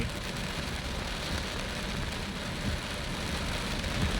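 Heavy afternoon rain falls steadily in Na Pho, Buriram, Thailand, a dense unbroken hiss that holds level throughout, with no voices heard.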